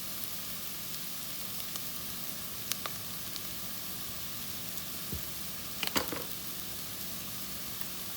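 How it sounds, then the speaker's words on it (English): Seasonings sizzling in a hot pan on a home keto cooking setup, a steady soft frying hiss throughout with a few brief clinks and stirring scrapes near the middle. "the seasonings will not come out unless you fry them out"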